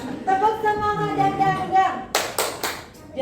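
A group claps in unison for a tepuk semangat cheer during a school programming-class session, three or four loud, sharp rhythmic claps following a stretch of speech.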